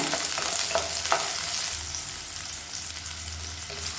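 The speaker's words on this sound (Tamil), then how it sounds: "இப்போ வெங்காயமும் பூண்டும் நல்லா வதங்கிடுச்சு" Chopped onions and small garlic cloves sauté steadily in a hot pan for garlic chutney, a continuous close sizzle with a few sharp stirring clicks and no talking.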